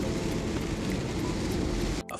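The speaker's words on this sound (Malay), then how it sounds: "Sekarang ni dah start hujan." Rain falling steadily, heard from inside a moving electric car on a long-distance drive from Johor to Selangor, a dense, even wash of sound that cuts off abruptly at the end.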